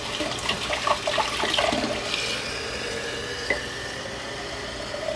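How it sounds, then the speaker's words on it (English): Cold water is poured from a tap into a glass sprouting jar, a close, steady splashing stream over several seconds that turns into a lighter trickle, with no one talking. "And I'm just going to put some water in it."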